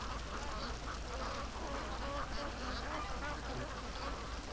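Ducks coming home quack faintly and repeatedly in the distance, their calls half buried in a steady hiss of wind and insect-like buzzing.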